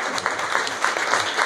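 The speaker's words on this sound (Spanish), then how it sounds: "Aplauso para el Luz." A live comedy audience claps at a stand-up show, a brief, dense burst of close applause with uneven peaks, and no speech over it.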